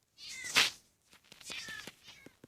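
A cat meows up close, one loud drawn-out cry followed by a few softer, shorter mews.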